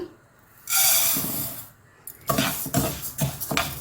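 Broken urad dal, about 300 grams, pours into a pan of oil with curry leaves for roasting. There is a soft rushing hiss, then a run of light clattering and scraping from the grains and the pan, close up.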